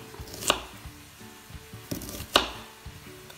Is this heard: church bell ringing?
no